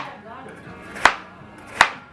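A knife chops an onion on a cutting board in two sharp, close knocks spaced under a second apart, with quiet room sound between them.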